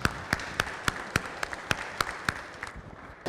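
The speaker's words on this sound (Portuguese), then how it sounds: "Pedir uma salva de palmas para os oradores e muito obrigado pela vossa presença." Applause from a conference audience for the speakers after a panel on parts warranties and returns, a thin scatter of distinct claps near and far, fairly sparse and tapering off.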